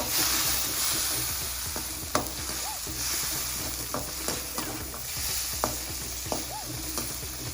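Whole tomato pieces frying in a pan with curry leaves for a rock fish curry: a steady, close sizzle broken by occasional spoon scrapes and small clinks against the pan.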